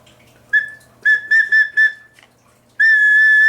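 A homemade pigeon whistle cast in resin gives several short, clear toots followed by one long sustained tone, loud and close, with no voices.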